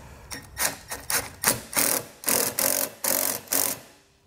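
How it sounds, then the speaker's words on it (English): A 5/16 socket or nut driver tightens a screw while a Curt T-connector wiring harness bracket is mounted on a 2014 Dodge Journey, giving a rapid series of about ten close, loud ratcheting bursts that run together in an uneven rhythm, with no voices. "You want to use a 5/16 socket or nut driver"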